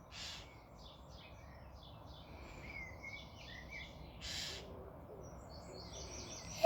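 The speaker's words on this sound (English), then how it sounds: "Hello, Mr. Robin" A robin chirps in a garden with faint, scattered tweets over a quiet, steady background hiss.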